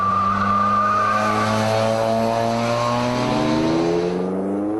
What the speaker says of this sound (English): These cars with the swing axle, they do tend to snap oversteer if you're not careful